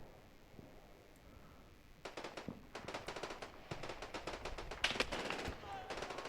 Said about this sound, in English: The anti-aircraft gun's scoring good hits there.